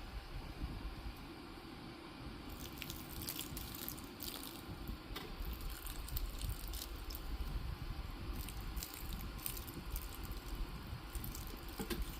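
Seedlings in a greenhouse being watered, a steady close-up wash of trickling, splashing water with soft squishy, gritty textures from wet soil and perlite, continuous for about twelve seconds with no speech.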